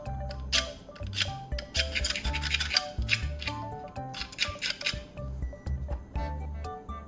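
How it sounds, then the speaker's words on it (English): Copper coating being scraped off the ends of copper-coated aluminum wires, close rasping scrapes in quick irregular bursts with short pauses, fairly quiet and alone. "Now I'm going to scrape off the copper coating from the ends of the wires."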